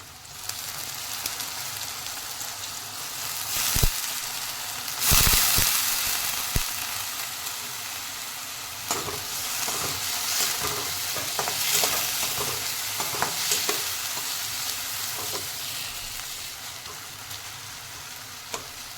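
Potato pieces go into a pan with tender cowpea pods and are stirred, giving a steady close sizzle and frying hiss with scraping stir strokes and a few sharper clatters.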